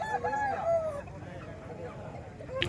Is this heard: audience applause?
no